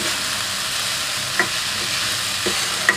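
Vegetables for sabudana khichdi being stirred in a pan: a steady frying sizzle with a few soft scraping knocks of the spoon, fairly close and without talk.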